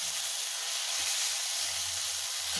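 Tomato and onion fry together for a rui fish curry, giving a continuous soft sizzling hiss close by, with faint low bubbling underneath and no talk.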